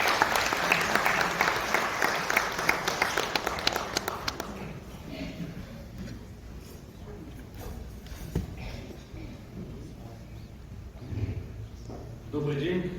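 A burst of audience applause at an international academic forum in a Seoul hotel ballroom, loud and dense for about four seconds before breaking off, followed by quiet room noise, shuffling and faint movement as the clapping dies away.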